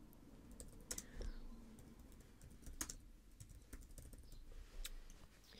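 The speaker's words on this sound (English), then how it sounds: "So I will type in here." Typing on a computer keyboard, faint irregular key clicks with a few louder taps, close by and quiet.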